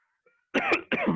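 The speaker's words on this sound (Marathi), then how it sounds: "थांबा जरा, मला खोकलून घेऊ द्या." A man coughs twice in close, loud succession, with a short break between the harsh bursts, during a 12th-grade chemistry lesson on electrochemistry.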